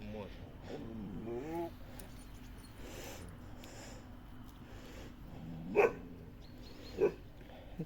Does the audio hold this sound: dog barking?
yes